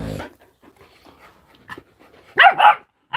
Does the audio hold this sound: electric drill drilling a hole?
no